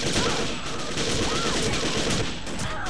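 Gunfire in the video game Second Sight comes as a dense, continuous burst of rapid shots lasting a few seconds, loud and close.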